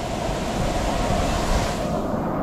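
Waterfall at Cachoeira do Abade in Pirenópolis, a dense, steady roar of falling water that stays constant and loud throughout, with no talk.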